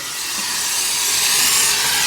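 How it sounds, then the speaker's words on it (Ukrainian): Heated material hissing while silver is being extracted: a steady, bright, broadband hiss that grows slowly louder over about two seconds, close and alone. "О, шипить, пішла жара."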